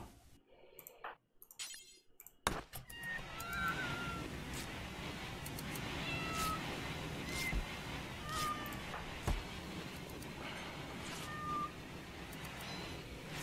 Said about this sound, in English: The freaking cats